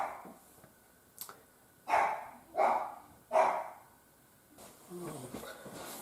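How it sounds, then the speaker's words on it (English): A dog barks indoors, three loud, evenly spaced barks close by, preceded by a faint yip and followed by softer whimpering sounds. "this is what you can hear barking away"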